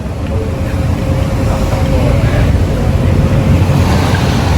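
Strong wind buffets the microphone aboard a passenger ferry crossing Hong Kong waters, a loud continuous roar blended with rushing water and the boat's low engine drone, unbroken for the whole stretch.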